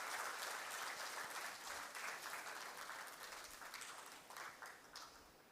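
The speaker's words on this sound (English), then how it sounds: "A slightly bigger round of applause." Sustained crowd applause at an evening talk welcoming a serving Indian Navy commander, dense steady clapping throughout that tapers slightly toward the end.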